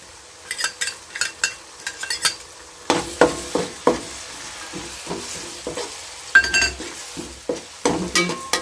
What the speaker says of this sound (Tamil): இது நல்லா பச்சை வாசனை போகிற வரைக்கும் நல்லா வதக்கி விடுங்க